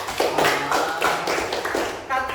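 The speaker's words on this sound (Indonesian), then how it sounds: "Tepuk tangan buat Riki." A classroom of pupils clapping for a classmate, several short bursts of hand claps in uneven rhythm mixed with children's voices, close and fairly loud.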